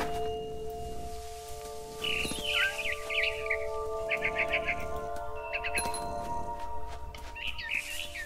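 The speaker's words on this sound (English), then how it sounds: "Then I heard chirping outside my window." Small bird chirping in a video game, a series of bright twittering bursts over a steady music-like drone, with no talking.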